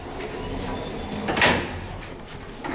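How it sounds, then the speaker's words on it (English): A 2012 Otis Series 2 hydraulic elevator door slides shut, a smooth rolling rumble that peaks in a brief swoosh midway and settles with a faint bump at the end. "we'll get out of the elevator and watch the door close"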